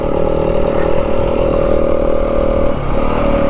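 Yamaha WR250F four-stroke dirt bike held in second gear on a snowy mountain trail, engine droning steadily close and loud with a brief dip in the revs near the end.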